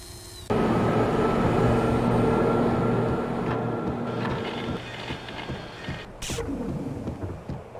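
Yellow subway train in the video game Max Payne, a loud steady rumbling drone with humming tones that starts abruptly, holds, then thins out, followed by a brief sharp hiss.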